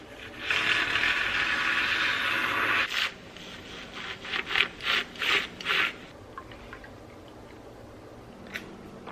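A spoon stirs a scoop of powder into a drink in a glass: a scraping swirl at first, then a run of five quick clinking strokes, close and fairly quiet, with a faint tap near the end.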